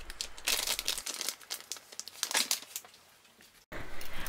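Plastic freezer bags being filled with spoonfuls of roasted-vegetable breakfast spread, then flattened and sealed in a kitchen, with close crinkling and rustling bursts, a brief quiet stretch and a sudden cut.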